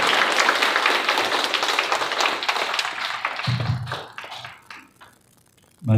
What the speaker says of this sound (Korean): 사상에 오르실 때 큰 박수로 모시도록 하겠습니다.